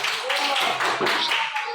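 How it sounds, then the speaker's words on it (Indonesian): A short burst of clapping from a classroom as students applaud a student group, with voices mixed in under the claps. "Ya tepuk tangan untuk kelompok 1."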